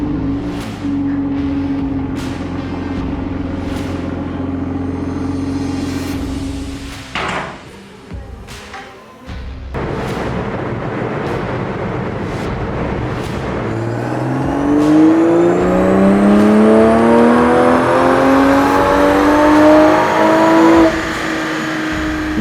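A 2020 Toyota Supra on a dyno revs hard, its engine climbing in pitch through sustained pulls with brief lifts and shifts between, loud and close throughout.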